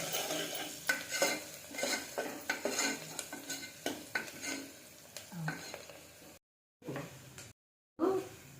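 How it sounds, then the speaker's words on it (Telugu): A spoon works through onions and turmeric in hot oil in a pan for ridge gourd curry, steady rhythmic scraping strokes and clinks over a gentle sizzle, broken by two short silences near the end. "బాగా కలు కళ్ళు పెట్టాలి కలుపుకోవాలి"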